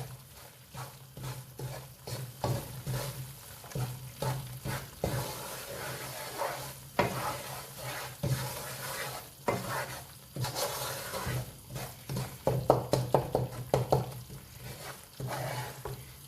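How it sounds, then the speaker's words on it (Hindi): A spoon stirs halwa cooking in a pan, making repeated scraping and swishing strokes in an uneven rhythm over a soft sizzle, close and moderately loud. "इसको हिलाते भी रहना है साथ साथ, ऐसा ना हो ये एक ही तरफ से पकता रहे।"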